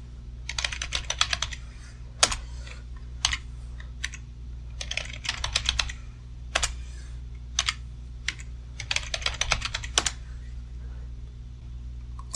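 Password typed on a computer keyboard: close, crisp bursts of rapid key clicks separated by short pauses and a few louder single presses, over a low steady hum.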